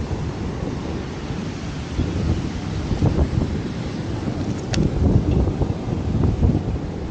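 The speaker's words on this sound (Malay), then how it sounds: "Ombak kuat ni." Strong waves surge and crash under a steady roar of wind buffeting the microphone, loud and continuous with rising swells.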